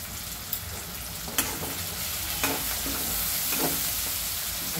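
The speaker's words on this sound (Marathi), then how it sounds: "थोडासा टोमॅटो मऊपर्यंत भाजून देणार आहोत" Tomato with turmeric fries in a pan for Maharashtrian misal, making a continuous close sizzle broken by several sharp scraping knocks as it is stirred. No one speaks.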